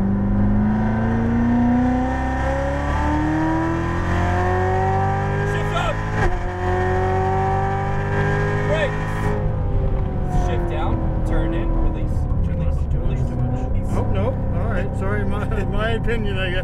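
A Chevrolet Corvette Z06 Stingray accelerates hard out of a corner on a race track, its engine note climbing loudly and continuously, dropping briefly at an upshift, then rising again, with a voice heard at times.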